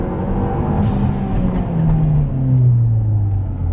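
A car accelerating hard off a launch-control start and pulling through into second gear, its engine note rising loud and close with a gear change partway through, no talk over it.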